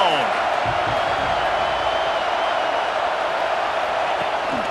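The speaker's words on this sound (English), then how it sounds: "This crowd ready to make its presence known." Stadium crowd noise in a College Football video game, LSU at Texas: a steady, dense wash of crowd roar holding at an even level throughout, with no clear peaks.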